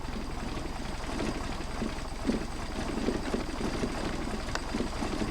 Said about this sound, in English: And we're still idling.